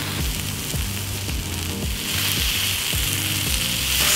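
Sliced vegetables and spring onion fry in a hot pan, giving a steady, close sizzle that holds level throughout, with faint low knocks from tossing underneath.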